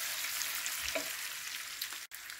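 Chow mein stir-fries in a hot pan, a steady close hiss of sizzling noodles with a couple of soft stirring scrapes and a brief break near the end.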